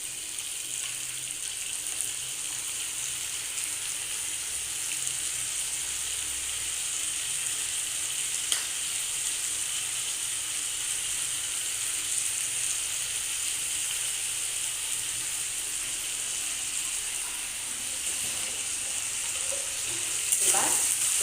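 Spices sizzle in a pan over a medium gas flame while muri ghonto, a fish-head and rice dish, cooks; a steady, bright frying hiss continues throughout with occasional faint stirring clinks.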